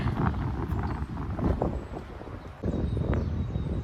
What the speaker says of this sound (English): the wind was blowing like this